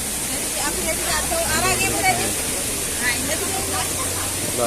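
Water pours steadily down Ella waterfall, a loud, continuous broadband rush close by, with faint voices of people talking beneath the roar.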